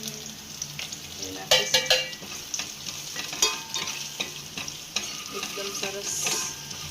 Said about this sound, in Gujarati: સાંતળાઈ જાય પછી એમાં આપણે જે આ ચીલી ફ્લેક્સનો પાવડર નાખ્યો છે